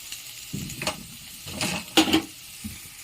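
Dal being stirred into egg tarka in a pan, a few scraping, soft stirring strokes with light sizzling, close and moderately quiet, no talk.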